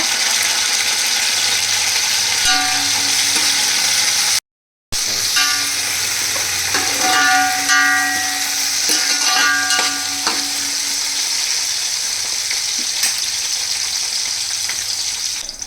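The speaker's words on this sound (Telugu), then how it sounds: "ఆనియన్స్ చక్కగా ఫ్రై అయిపోయినాయి, మంచి కమ్మటి వాసన వస్తుంది." Onions sizzling in hot oil with mint and coriander for green chilli chicken pulao, a steady loud fry with stirring scrapes and clinks throughout, no talk.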